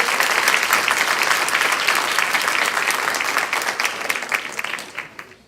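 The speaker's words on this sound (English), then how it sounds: "So another round of applause, please." A crowd at a school board meeting in an elementary school claps enthusiastically in sustained applause that gradually thins and fades out near the end.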